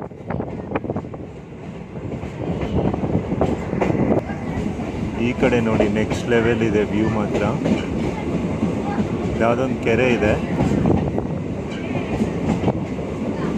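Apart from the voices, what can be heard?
DEMU train running on rails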